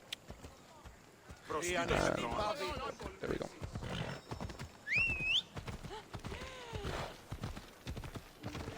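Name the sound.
horse hooves clip-clopping in video game Assassin's Creed Odyssey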